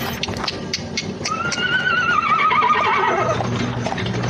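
Horses pulling a coach neigh in a long, loud, falling whinny over steady hoof clops, with a continuous rumbling background from the ride.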